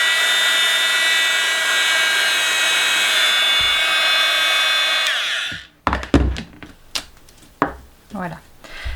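A heat gun blows a steady, loud whirring hiss for about five seconds while reheating paper to remelt embossing powder, then cuts off, followed by a few knocks and a voice speaking.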